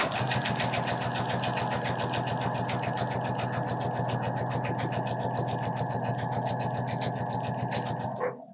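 Sewing machine with lengthened stitch and loosened tension running a gathering thread, a fast even mechanical chatter of repeated needle strokes for several seconds before stopping abruptly, close and without talk.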